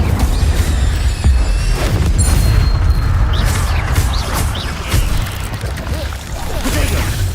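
Spell-casting bursts and booming impacts from the Hogwarts Legacy video game, with the Incendio fire spell among them, sounding as dense, continuous rumbling blasts and crackle that stay loud throughout, with a voice calling out over the din.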